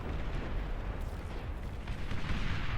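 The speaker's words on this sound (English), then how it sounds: "Energy converters going to explode." Beyond All Reason real-time strategy game explosions as energy converters blow up: a dense, continuous rumbling roar of blasts and booms, heavy and sustained throughout without a break.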